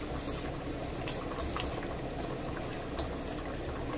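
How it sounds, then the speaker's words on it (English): Potatoes boil in a pot of water with a constant bubbling churn and scattered small pops, steady and close, with no voices. "we'll leave it there to boil until the potatoes are al dente"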